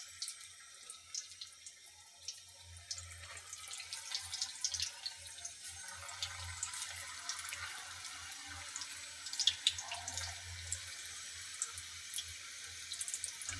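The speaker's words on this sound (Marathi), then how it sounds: "आता तेल तापले, आपण आता हे भजे टाकून घेऊ." Spinach fritters (bhaje) fry in hot oil in a home kitchen, a steady close sizzle with fine crackles and pops that builds after the first few seconds, under a low hum.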